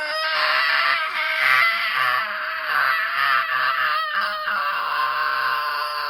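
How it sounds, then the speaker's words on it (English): A screaming sound effect, recorded at half speed and then sped up, plays as a dense, loud, continuous shriek with shifting pitch. It runs for the whole stretch and no one talks over it. "the screaming, which again was recorded at half speed and then sped up"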